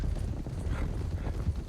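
Horse hooves clip-clop in a quick, steady rhythm, close and fairly loud, with a brief low thump near the end and no talk over it.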